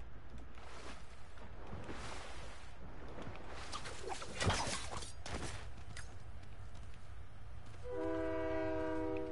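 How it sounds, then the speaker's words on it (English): A train rumbles past on its tracks in Fortnite, a steady mechanical roll with rising clatter, then a sustained horn blast sounds near the end. "Yeah, there's a train."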